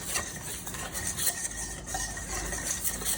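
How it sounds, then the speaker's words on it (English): Cornmeal and Wondra flour tempura batter being whisked, a steady, close, brisk rustling with a slight metallic edge, continuous and without talk. "We have some cornmeal and our Wondra flour. And we're just gonna whisk these all in"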